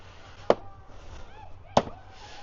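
Two sharp plastic snaps about a second apart as clips on a side panel of a BMW R1300GS motorcycle pop loose under a steady pull, close and distinct over a quiet room.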